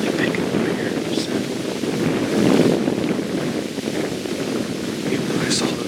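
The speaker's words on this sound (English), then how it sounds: "the wind's just constantly picking up here" Wind blows steadily outdoors during a morning deer hunt, a constant buffeting roar against the microphone that swells briefly, loud and close throughout, with someone talking quietly under it.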